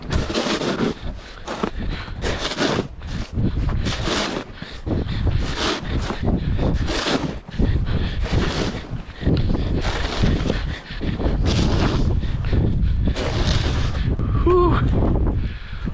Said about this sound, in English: Here I thought the wind calmed down, but I guess not. It's still blowing.